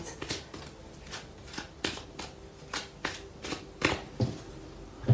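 A deck of oracle cards being shuffled and cut, with a series of soft riffling snaps and slaps at irregular intervals, close and fairly quiet, with no talking.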